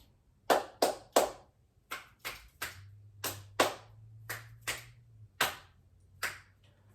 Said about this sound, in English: My clap snaps are coming back